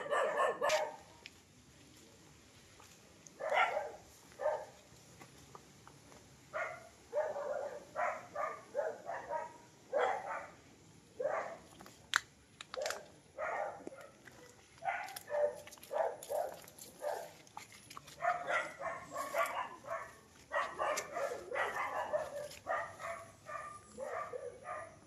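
Many guard dogs barking on a farm lot, a busy overlapping chorus of sharp barks at mid distance that keeps going throughout.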